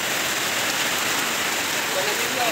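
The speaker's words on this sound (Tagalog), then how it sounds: "Malakas na ang ulan guys." Steady, dense rain pours down continuously, a broadband hiss filling the whole clip with no pauses.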